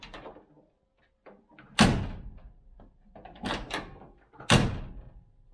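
The driver's door of a 1971 Range Rover is shut repeatedly, giving two sharp metallic slams with smaller latch clicks and handling noises in between, close and loud.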